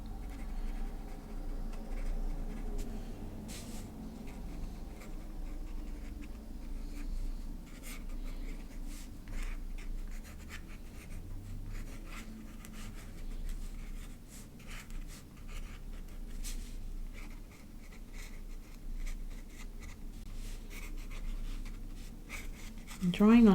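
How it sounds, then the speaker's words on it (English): Pencil or pen drawing on textured watercolor paper over painted flowers, a soft continuous scratching and rubbing at close range, with someone talking over it. "drawing on top of watercolor paper as well will give you a little bit of"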